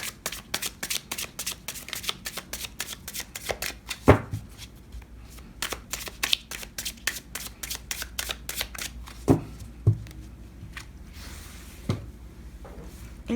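Tarot cards being shuffled by hand, a quick run of crisp riffling flicks and soft slaps close to the listener, with a few louder taps as the deck is squared, and no talking.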